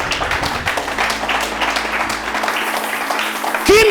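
A church congregation applauds to acclaim the Lord with dense, continuous clapping from a crowd, loud and sustained, ending as a voice cuts in.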